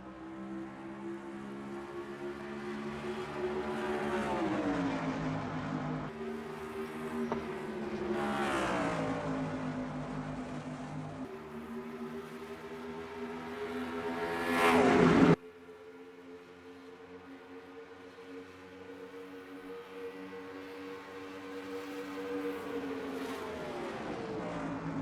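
Race cars accelerating away together at the green-flag start in the NASCAR Racing 2003 video game at Fontana, California, engines droning and rising in pitch with shifting gears, loud and continuous, with one sharp burst midway before the roar settles.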